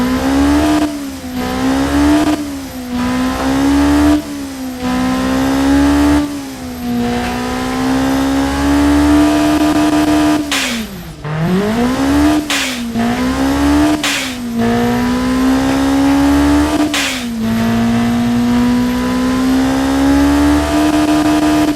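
A 2-liter four-cylinder EFI car engine making 581 hp revs loudly and close up, its pitch rising and falling repeatedly with sharp crackling bursts between throttle blips and no one talking.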